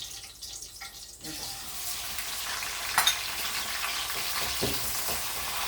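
Chinese bitter melon hits a hot pan and sizzles loudly and steadily, with the broad frying hiss and occasional clatters of stirring continuing throughout.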